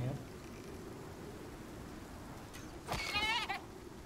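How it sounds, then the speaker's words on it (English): A goat bleats once in the survival video game Icarus, a short wavering cry rising out of a steady rain-like background hiss. "Yeah, it is some kind of goat."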